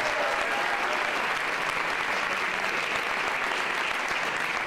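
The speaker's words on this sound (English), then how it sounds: "let's give A&R Solar a big round of applause" Audience applause at a gubernatorial news conference held in a solar company's workspace, a thick continuous roar of clapping at a steady loud level throughout.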